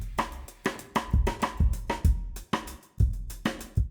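A sampled drum beat loops with punchy kick and snare hits in a steady mid-tempo pattern, roughly two hits per second, close and clear with no voices.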